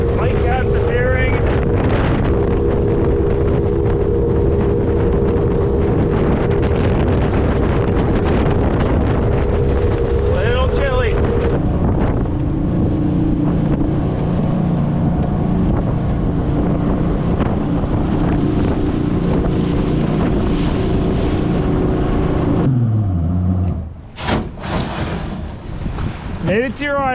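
SeaArk Predator jet boat running upriver in wind: a loud, steady engine drone under heavy wind buffeting on the microphone, with the pitch shifting midway and a sharp drop near the end, while voices talk briefly over it.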